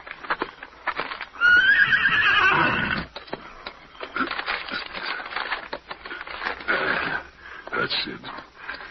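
A horse whinnies loudly near the start, then hooves clip-clop in an uneven rhythm across the rest, with a voice speaking over parts of it.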